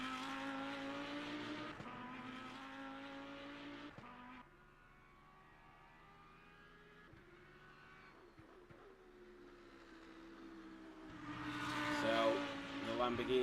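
A Lamborghini GT3 race car laps Spa in Le Mans Ultimate, with a sustained engine drone that shifts pitch through gear changes, a quieter middle stretch, then swelling revs, under a commentator's voice.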